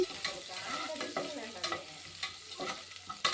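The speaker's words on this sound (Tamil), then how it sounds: "வெங்காயம் தக்காளி பார்த்திங்கன்னா நல்லா போட்டு வணங்கட்டும்" Onions and tomatoes fry for chicken dum biryani, giving a continuous close sizzle broken by repeated stirring scrapes in an uneven rhythm.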